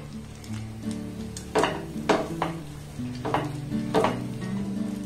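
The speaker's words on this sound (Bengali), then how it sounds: "এবার দুধের সাথে চালের গুঁড়িটাকে খুব ভালোভাবে মেখে নিতে হবে।" Rice flour being mixed with milk in a pan over a low gas flame: a spoon stirs and scrapes the pan with a soft clink on each stroke, several strokes in an uneven rhythm over a faint sizzle.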